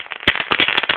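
An egg firecracker (mercun telur), a small children's firecracker lit with a lighter, goes off in a rapid burst of sharp, loud crackling pops within about one second.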